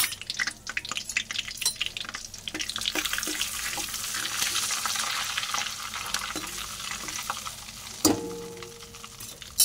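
Chili powder sizzling in hot oil for misal curry, stirred with a spoon against the pan; steady frying hiss close up with intermittent scraping clinks and a sharper knock near the end.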